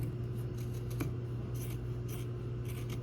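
Scissors cut through a paper sewing pattern, giving soft repeated snips and rustles close up under a constant background hum, with no voices.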